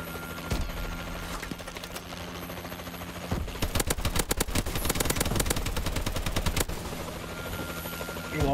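Warbird aircraft scorestreak in Call of Duty: Advanced Warfare team deathmatch, a helicopter-like rotor drone under scattered shots, then a long burst of rapid automatic gunfire before fading back to engine hum.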